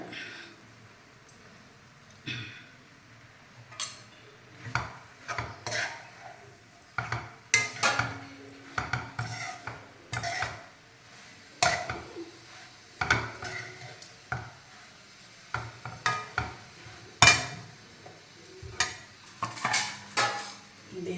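Puffed rice and coriander are mixed by hand in a metal vessel, with repeated rustling scrapes and clinks coming in irregular bursts, close and fairly quiet.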